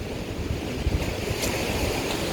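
Ocean surf at a beach where the waves run rough and strong, a steady broadband wash of breaking water with wind rumble, fairly close and continuous, no voices.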